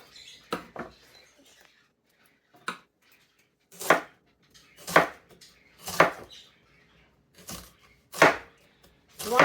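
A knife chops cabbage for sauerkraut on a cutting board: about a dozen sharp, separate chops in an uneven rhythm, close and crisp, with quiet pauses between them.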